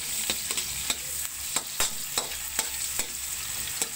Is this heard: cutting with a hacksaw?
no